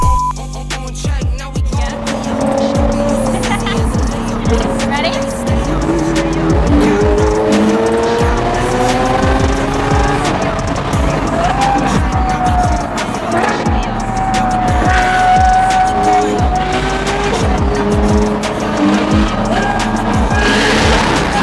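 A 2022 Tesla Plaid launches hard at an exotic car rally, with loud sustained tire squeal and skidding over rising electric drive whine, rushing wind and cabin noise continuing throughout.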